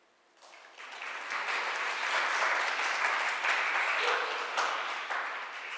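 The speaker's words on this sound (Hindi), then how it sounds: "अरे आप लोग ताली क्यों बजाते हो?" An audience at a Hindi devotional sermon breaks into sustained applause, rising quickly from quiet and holding a dense, even wash of clapping for several seconds.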